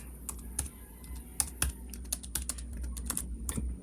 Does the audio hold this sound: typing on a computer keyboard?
yes